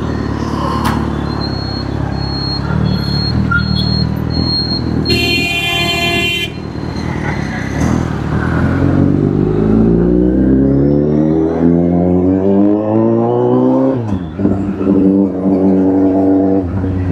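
A Kawasaki Z800 motorcycle on its first day is ridden in an open space, its engine climbing through a long rising rev as it pulls away, loud and close, with a brief sharp horn-like tone early on.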